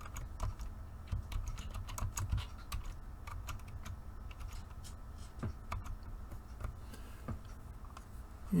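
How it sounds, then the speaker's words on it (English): Soft, irregular keystrokes patter on a computer keyboard, quiet but close and continuous, as text is entered for a CNC carving job in Vcarve Pro; no one speaks. "For now, we're just going to type rest in peace."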